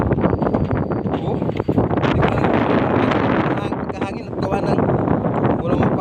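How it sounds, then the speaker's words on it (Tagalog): Strong wind buffets the microphone in loud, continuous gusts, roaring and flapping throughout. "Mahangin pa. Mahangin pa."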